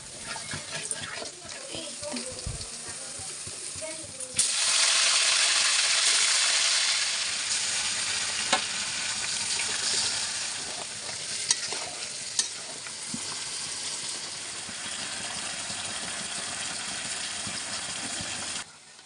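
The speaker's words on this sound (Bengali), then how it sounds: "ডিম, আলু আর চিকেনগুলোকে একটু ভালো করে ভেজে তারপরে কিন্তু আমি মশলাটা অ্যাড করব" Eggs, potatoes and chicken pieces fry in a pan for biryani, with a steady loud sizzle that swells after a few seconds and holds, plus occasional scrapes of stirring.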